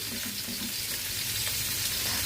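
Marinated potatoes tossed and fried in a pan, a loud steady sizzle close by with soft scraping as they are stirred, no speech.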